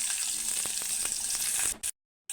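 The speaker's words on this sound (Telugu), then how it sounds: "ఆనియన్స్ కూడా వేసి ఈ విధంగా ఫ్రై చేసుకుంటూ" Onions frying in hot oil with tempering spices for a drumstick-leaf dal, a steady close sizzle that cuts off abruptly near the end.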